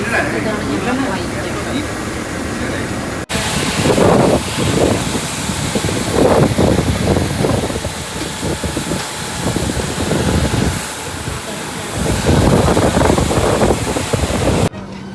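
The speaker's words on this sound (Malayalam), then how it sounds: "ഇതാണ് ഞങ്ങളുടെ ഫ്ലൈറ്റ്." An Air India Express airplane's engines drone in a steady, loud roar with a high whine on top, continuous throughout while people talk over it.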